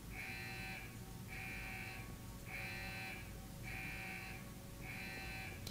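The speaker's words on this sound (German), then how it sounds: "ist das jetzt Alarm oder was? Ist der schon ausgelöst?" Rhythmic alarm buzzer in the video game Deus Ex: Human Revolution, sounding five evenly spaced pulses at a steady pace, fairly faint against a constant background hum.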